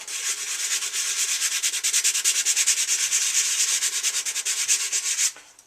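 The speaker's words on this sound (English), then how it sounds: "I'm going to scuff up this side of the helmet." Steady rhythmic sanding strokes scuff across a hard plastic Boba Fett replica helmet, close and continuous for several seconds before stopping abruptly.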